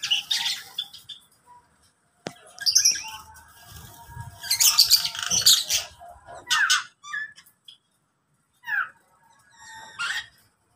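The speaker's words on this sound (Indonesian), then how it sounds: "kalau nggak salah burung jalak Bali ya" Bali myna (jalak Bali) calling in an aviary in front of a shophouse: bursts of bright chirps, whistles and squawky notes, repeated irregularly with short pauses, fairly close and clear.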